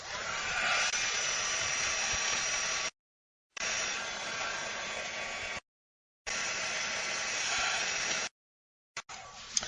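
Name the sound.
dryer drying a colored paper flower petal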